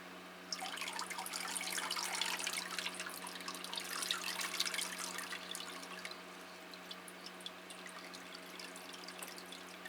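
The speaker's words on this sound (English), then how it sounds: "so we'll water that one as well" Water is poured onto potted paphiopedilum and phalaenopsis orchids in a warm greenhouse, a soft trickling and dripping that swells in the middle and then thins to scattered drips, with no talk.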